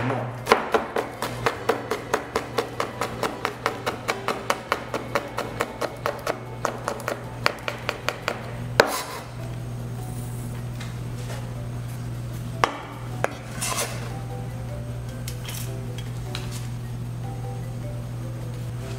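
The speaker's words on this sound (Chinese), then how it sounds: "红辣椒切末，好，这样直直切刀，翻过来。" Knife chopping red chili into fine pieces on a cutting board, a fast even run of crisp taps for several seconds, then a pause and a few scattered knocks over a steady background hum.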